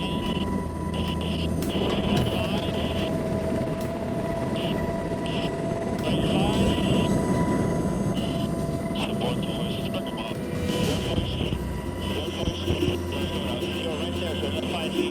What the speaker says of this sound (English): I was calling the helicopter over